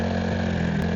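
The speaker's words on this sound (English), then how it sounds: "The engines hum back to life." Motorcycle engines idling steadily on a ride, a continuous low hum with strong low harmonics, close and even throughout with no talk.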